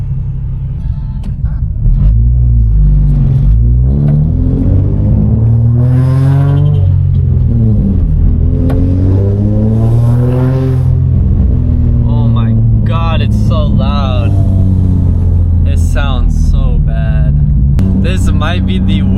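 A loud, raspy drift car engine revving hard, rising and falling in long sweeps over a deep rumble, close and continuous, with a voice speaking over it at times.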